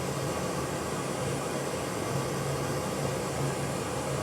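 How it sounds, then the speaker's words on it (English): Pink noise from a signal generator played through an RCF ART745A two-way 15-inch speaker cabinet, a steady broadband hiss filling the room without pause and with no voices. "what we're going to do now with the signal generator is go in and put on some pink noise"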